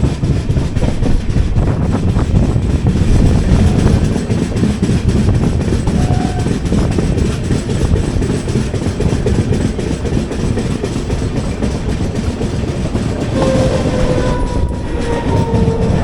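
Pune Kanniyakumari Express, a long-distance train on an Indian railway line, heard from inside as a loud, steady rumble of wheels on track with faint clickety-clack, continuous and without talk.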